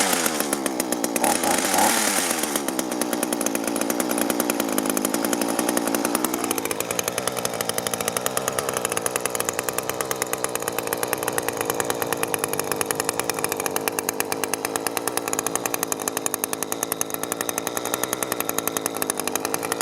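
A small two-stroke chainsaw engine idles steadily after starting, run to burn the remaining fuel out of its carburetor for storage; a loud, continuous buzzing drone holds close and alone throughout, with a brief rev near the start.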